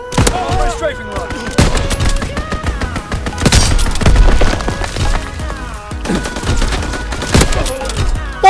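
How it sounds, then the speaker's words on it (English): Aircraft strafing gunfire in a WW2 shooter game rattles in loud, dense bursts, with sharp impacts and cracks layered over the rapid fire and a few heavier hits standing out. "Oh, first strafing run."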